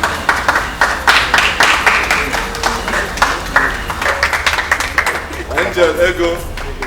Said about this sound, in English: Good clapping, good clapping.